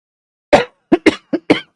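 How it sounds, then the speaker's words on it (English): A man coughs five times in quick, harsh bursts, close and loud after a moment of silence. "Still got this niggling freaking cough."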